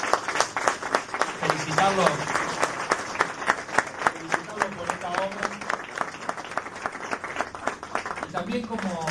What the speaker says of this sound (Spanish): Por eso pido un fuerte aplauso para todas las autoridades.